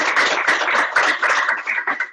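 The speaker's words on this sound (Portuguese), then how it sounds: "Nossas palmas." Audience applause at a class session, a brief burst of dense, close hand clapping that holds steady and then thins out toward the end.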